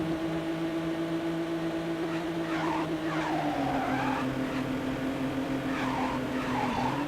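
A motorcycle in the racing video game Midnight Club 2: a sustained engine drone with a long tire skid and squeal, pitch shifting as the bike slides, loud and continuous throughout.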